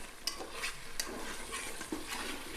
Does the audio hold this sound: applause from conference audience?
no